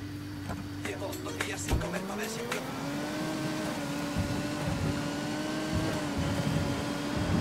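A car in the Ghost Recon Wildlands video game drives and accelerates, its engine tone rising then holding a steady hum, moderately loud and continuous, with a thud early on and faint game effects around it.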